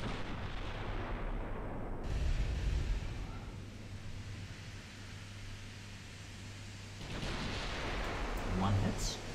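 Battleship guns boom in the naval warfare game Ultimate Admiral Dreadnoughts, with heavy, rumbling salvos that rise out of a dense wash of sustained noise, one blast early and another near the end.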